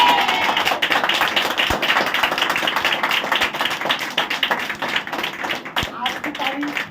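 A church congregation clapping along at a Sunday service, quick steady rhythmic handclaps close and loud, with a voice over the top at times.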